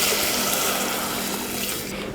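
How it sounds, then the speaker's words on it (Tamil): Water pours steadily into a pan of oil-fried masala for egg curry, a continuous close splashing rush that stays constant throughout with no voices. "இப்போ இதில் தண்ணி ஊற்றிடலாம்."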